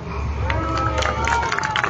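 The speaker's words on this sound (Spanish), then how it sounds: "Quiero que me brinden un fuerte aplauso si les está gustando el show" Street show audience clapping and cheering in a brief burst of crowd applause, with scattered claps and voices mixed in.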